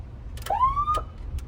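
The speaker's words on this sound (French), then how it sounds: "Oh la sirène, les amis." A siren on a car sounds briefly, a single rising wail sweeping upward, loud and close, cut between short clicks.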